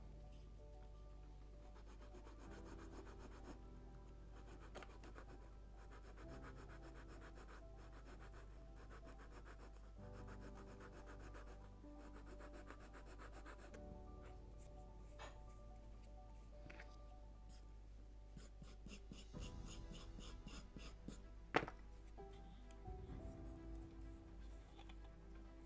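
Wood planking on a Model Shipways Mayflower (1620) model ship kit being sanded by hand, a steady soft rasping rub with repeated strokes, close up and fairly quiet, with a louder scrape near the end.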